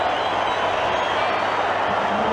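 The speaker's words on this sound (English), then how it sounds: "The crowd is on its feet at Aussie Stadium." Rugby league crowd at Aussie Stadium in a South Sydney versus St George-Illawarra Charity Shield match, a steady, dense roar of cheering and clapping filling the whole stretch, loud and unbroken.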